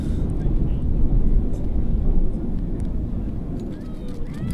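Steady low roar of aircraft engines at Manchester Airport, a broad continuous rumble that swells slightly and then eases, heard from some distance with faint background activity and no clear talk.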